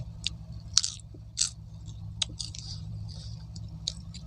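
Green mango bitten and crunched close up, a series of sharp crisp bites and crunches about every half second over a low steady background hum, with no talking.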